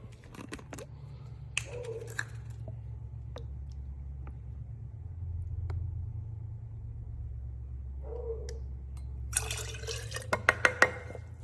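Cranberry juice being poured into a glass for a mixed holiday drink, faint trickling and dripping with a few small clinks, close but quiet over a low steady hum, building to a brief run of sharp taps near the end.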